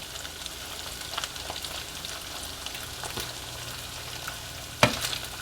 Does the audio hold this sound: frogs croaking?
no